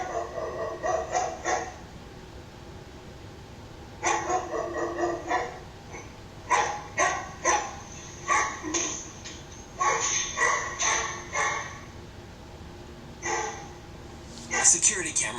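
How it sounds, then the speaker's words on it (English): A dog in a home living room barks in repeated short bursts, several clusters of sharp barks separated by brief pauses, fairly close, with talk audible at times. "unexplainably, the dog starts to bark at something we can't see"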